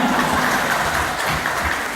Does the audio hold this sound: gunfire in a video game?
no